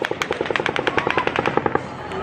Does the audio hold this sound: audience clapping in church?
no